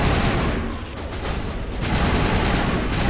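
Gunfire burst in the Mass Effect Legendary Trilogy video game, loud and dense broadband crackle filling the clip with a brief dip in the middle, no voices.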